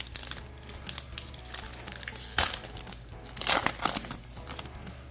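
Crinkling of foil wrappers being torn open on Pokémon Surging Sparks booster packs, with steady close rustles and a louder crunch partway through, no talking.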